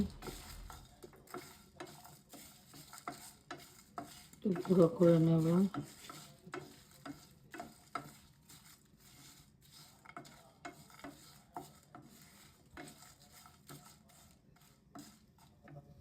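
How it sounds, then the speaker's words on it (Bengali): Whole spices for biryani masala dry-roast in a pan, making a continuous rattling, ticking scrape as they are stirred, with a brief spoken remark over it. "এই যে এখন দিয়ে দিয়েছি, সব একটু হালকা ভাজা দেবো।"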